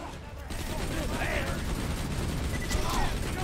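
Automatic turret gunfire from the video game Borderlands 2 plays as a dense, steady stream of shots amid game noise, with a voice talking over it.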